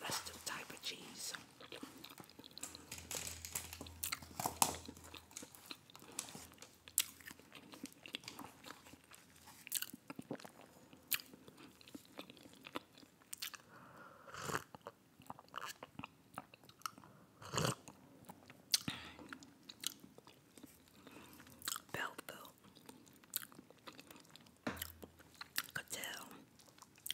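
Close, wet chewing of gum with soft smacks and clicks running through the whole stretch, intimate and quiet in an ASMR setting, with faint whispery breaths between.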